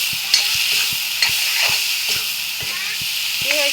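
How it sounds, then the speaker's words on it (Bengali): A spatula scrapes repeatedly through potato curry with chili powder in a sizzling pan, giving rhythmic strokes about twice a second over a constant frying hiss, close and clear. "এবার আমি ভালো করে মিশিয়ে নেব"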